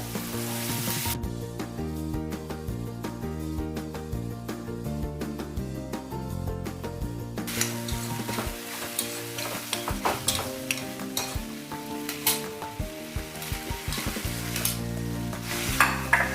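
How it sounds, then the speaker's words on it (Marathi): Boiled pigeon peas stirred into tomato masala frying in a pan for methi bhaji. A steady sizzle with stirring scrapes sits under tonal background music. "आपण आता यामध्ये आपण उकडलेले तुरीचे दाणे घालणार आहोत"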